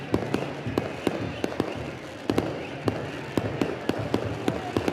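Stadium pyrotechnics and fireworks bursting over the field at a Motagua vs CAI Concacaf Central American Cup football match in 2023: a rapid, uneven string of sharp cracks and pops over steady crowd noise.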